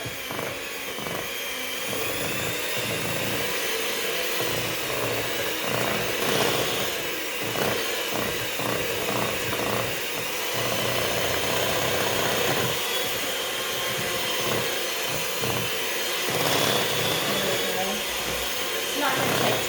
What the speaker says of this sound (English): It specifically says to use a handheld mixer, which is fine with me.